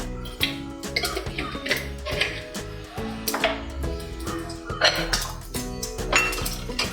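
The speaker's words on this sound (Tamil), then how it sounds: "கடுகு பொரிஞ்சிருச்சு." Mustard seeds crackling in hot oil in a kadai while cooking capsicum poriyal, a busy run of sharp pops and clinks over a steady ringing metallic tone, close and continuous with no talking.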